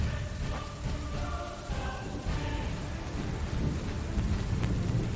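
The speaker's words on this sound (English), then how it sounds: "And some of the things that sound staticky, that's rain, actually." Rain falls as a steady staticky hiss, with low rumbling thunder rolling underneath throughout.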